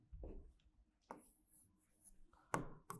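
Chalk or marker taps and scratches on a board as a sentence is written out. A few separate strokes land in short bursts between quiet pauses, close by and fairly soft.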